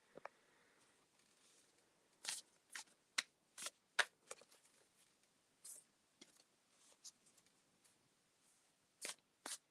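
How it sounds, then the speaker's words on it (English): Crisp riffling bursts of tarot cards being shuffled, several quick flurries separated by short pauses, close and quiet, with no talking. "so I'm shuffling for Pearl now"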